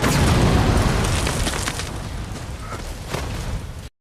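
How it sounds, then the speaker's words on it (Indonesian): A film explosion bursts out as a loud, deep boom and then rumbles on, fading over a few seconds before cutting off abruptly. "meledak."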